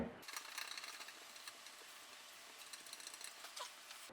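Rubber feet being screwed onto flight simulator pedals, a faint run of small clicking, ratcheting turns with brief louder ticks, alone and quiet.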